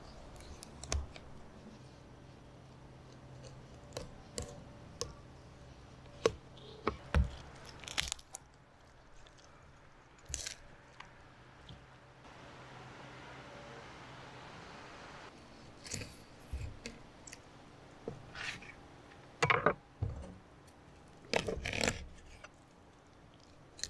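Knife or shears cut the collars, head and tail off a fish, making scattered crunching snips and clicks of cartilage and bone. The sounds come in irregular bursts, close and fairly quiet, with short pauses and no talking.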